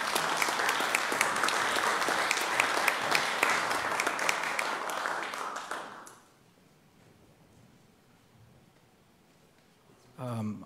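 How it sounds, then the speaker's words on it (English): A round of applause at a Bastrop, Texas city council meeting honoring firefighters, dense clapping for about six seconds that stops abruptly, followed by quiet room tone and a short burst of speech. "Let's give Andreas and his team a round of applause."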